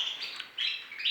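Colour canaries in a breeding room chirp and twitter in high, bright trills, several overlapping calls heard close and clear with no talking.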